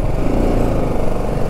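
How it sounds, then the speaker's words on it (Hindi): Motorcycle engines idling and rumbling in a traffic jam in Hyderabad, a loud, dense, continuous low engine drone close by, with no talking. "Traffic jam."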